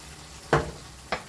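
Soy meat curry frying in a pan under a soft sizzle, with two quick stirring scrapes of a spoon against the pan.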